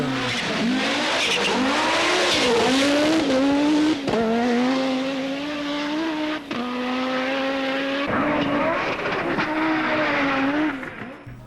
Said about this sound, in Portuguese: Os 5 cilindros explodindo.